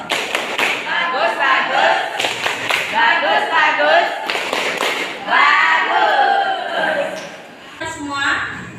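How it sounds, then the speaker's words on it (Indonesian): Classroom students performing a rhythmic patterned clap together, sharp loud clap bursts in repeating groups mixed with chanting voices and some laughter. "Kasih tepuk bagus ya. Semuanya ya, tepuk bagus."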